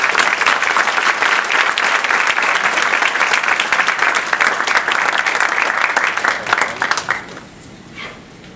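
An audience breaks into loud, sustained applause to welcome lecturer Henry Glassie at a Bridgewater State lecture. Dense, steady clapping runs for about seven seconds and then thins out and fades near the end.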